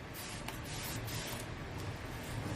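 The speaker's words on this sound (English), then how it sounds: "So just kind of give it a spray." Water sprayed from a spray bottle onto drop cloth fabric before chalk painting, quiet hissing mist bursts close by, a few short spritzes over a soft steady background.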